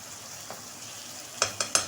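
Chicken pizza topping stirred in a pan over a low sizzle, with three sharp spoon-on-pan clacks near the end.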